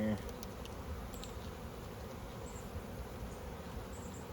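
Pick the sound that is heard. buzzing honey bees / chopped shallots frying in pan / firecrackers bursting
buzzing honey bees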